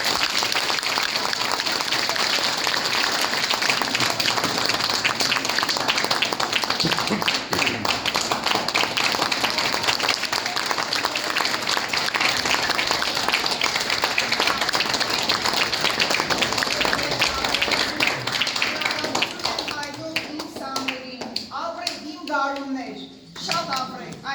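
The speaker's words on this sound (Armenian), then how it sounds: "Բարձր ծափահարեք ծնողներին" An audience at a school graduation celebration gives sustained, loud applause for the parents, with dense clapping throughout that thins out near the end as voices and children's chatter come through.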